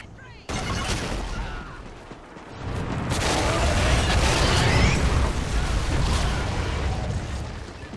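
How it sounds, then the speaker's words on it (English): A Trinity rocket strike detonates in the Ghost Recon video game, a sudden loud blast followed by a second, heavier wave of rumbling, crackling explosions that roll on steadily to the end. "Friendly Trinity rocket sounding inbound."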